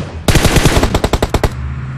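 A loud automatic weapon fires in PUBG Mobile: one sustained burst of about a dozen rapid, evenly spaced shots, close and punchy, then abrupt quiet.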